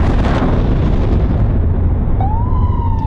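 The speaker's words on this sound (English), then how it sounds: "Over a dozen big explosions" A loud, heavy rumble of explosions fills the clip, dense and booming, with a thin siren-like whine rising near the end, during an attack in Kabul's diplomatic quarter.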